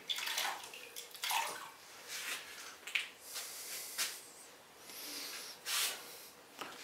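Glaze poured out of a bowl during raw glazing of pottery, heard as a series of soft liquid splashes and trickles at close range, coming in irregular bursts with short pauses between them.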